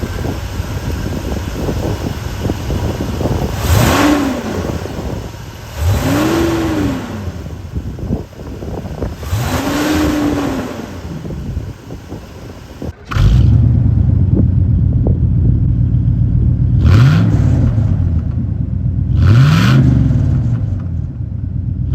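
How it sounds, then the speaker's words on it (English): A 350 cubic inch V8 engine in a 1978 Avanti II cranks and fires, then revs up repeatedly in strong rising-and-falling bursts, with a deep steady idle rumble between revs, close and loud. "let's start up the Avanti and see how this 350 cubic inch engine sounds"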